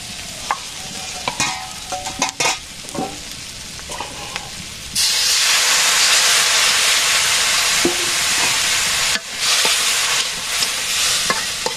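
Water poured into a hot pan of chilli-spiced food bursts into a loud, steady hiss that runs for several seconds, briefly cuts out, then resumes. Scattered clinks and scrapes of stirring come before it.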